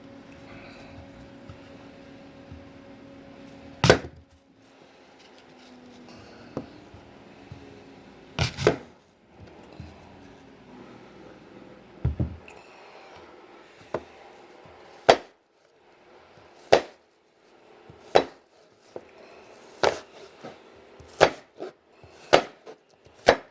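A knife chopping apple on a cutting board, sharp distinct thuds at irregular intervals that come faster toward the end, with quiet room sound between them.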